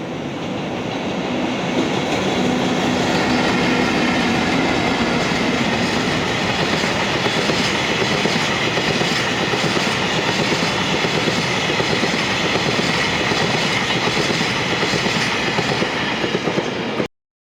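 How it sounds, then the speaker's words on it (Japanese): JR Freight EF64 electric locomotives hauling freight train 8084 through Tajimi station on the Chuo West Line, a loud, sustained roar of wagons rolling past with continuous wheel clatter and rail rumble before it cuts off abruptly. "今回は14時台前半に、多治見駅を通過する8084列車を収録しましたので見てください。"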